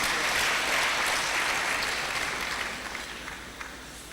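An audience breaks into dense applause as a professor, introduced alongside the Dean of Engineering, comes out. The clapping is steady and full at first, then thins and fades toward the end.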